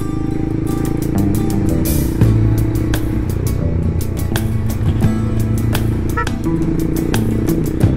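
A motorcycle engine drones steadily at about 80 on an open road, loud and close, with wind rush and occasional clicks and rattles throughout.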